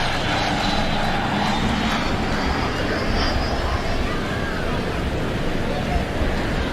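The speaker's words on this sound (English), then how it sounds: "here we are with the Phoenix Aviation Cessna Sovereign" A Phoenix Aviation Cessna Sovereign business jet flies over an air show at Uhuru Gardens, a loud sustained broadband engine roar filling the whole stretch, with crowd murmur and voices mixed in.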